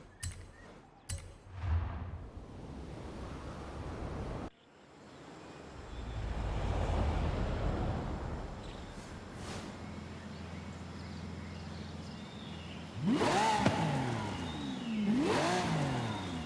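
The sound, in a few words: 2012 Lamborghini Aventador LP700-4 engine revving in video game Forza Horizon 5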